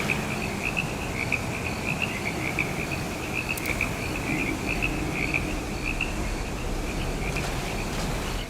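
Marsh ambience from the game Gloomwood: a thick chorus of croaking frogs over a steady high chirring of crickets and insects, dense and unbroken throughout, with no voices.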